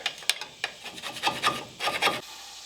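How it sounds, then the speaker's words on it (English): A hand tool scrapes a mud dauber nest off the suspension of a C10 truck, giving a series of rough, rasping strokes in quick succession, close and fairly loud, with no talking. "Maybe get this mud dauber nest off here real quick."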